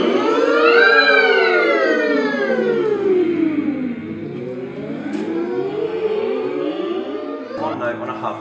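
A group of voices at an acting school rehearsal warm-up imitates a siren, sliding smoothly up and down in overlapping waves, each singer at a slightly different pitch, fading toward the end.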